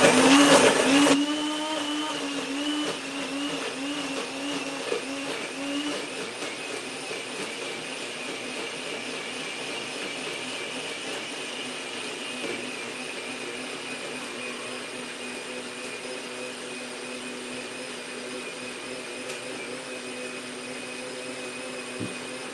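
A NutriBullet blender whirs with a strong start that settles into a steady, loud motor whine for over twenty seconds, with no talking.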